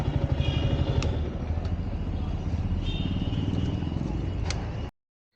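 A motorcycle engine rumbles steadily up close with a low, throbbing idle and faint mechanical clatter as the bike is being parked, running continuously before cutting off abruptly near the end.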